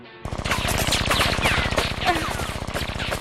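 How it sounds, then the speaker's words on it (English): Dense, rapid automatic gunfire bursts out after a brief quiet opening and keeps hammering steadily for about three seconds in an animated desert-wasteland action scene, loud and close with a gritty, echoing edge. "Who's shooting at us?"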